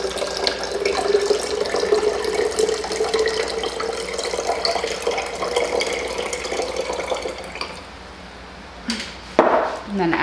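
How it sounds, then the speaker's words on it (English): Water poured from one cup into another clean cup while making pepper brine, a continuous splashing trickle that runs for several seconds, then thins and ends with a few clinks. "get another clean cup, pour your water out"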